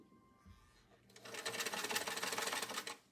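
A vintage Singer Spartan 192k sewing machine starts up after a quiet moment, running in a fast, rattling burst of stitching for about two seconds before stopping.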